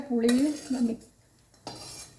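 A mixer grinder jar is picked up and handled while making fenugreek chutney powder, giving a brief ringing scrape followed by a hard clunk, close by in a quiet kitchen.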